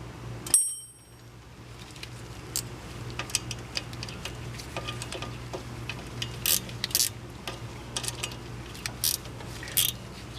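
A ratchet clicks as bolts are tightened on the front brakes of a 2012 Fiat 500, with a sharp bell-like ring near the start followed by bursts of quick, close ticking separated by pauses.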